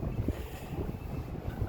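Steady cold wind in rural Japan rumbles and buffets against the microphone, a low continuous roar with no voices.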